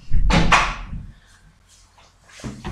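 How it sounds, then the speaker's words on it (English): A door pushed shut indoors, a loud close thud with a rattling impact followed by a softer settling knock, short and near, with no talking over it. "let me close the door"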